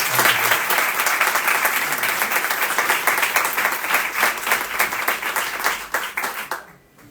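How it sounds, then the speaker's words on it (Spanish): Sustained applause from a seated audience after a three-person panel talk on mental health policy, dense even clapping filling the room for several seconds before tapering off quickly at the end. "Un aplauso, me parece, para los tres."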